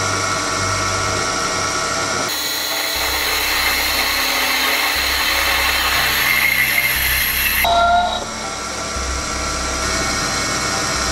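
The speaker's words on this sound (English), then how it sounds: "we need to drill and ream down the middle for the axle" Drilling and reaming an axle hole through metal on a lathe for a screwdriver sharpener, a steady loud machining whir with a shift in pitch partway through and a brief squeal near the end.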